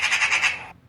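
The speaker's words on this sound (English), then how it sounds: "Magpie." A magpie gives a harsh rattling chatter, several quick raspy pulses in under a second, loud and close, then cuts off abruptly.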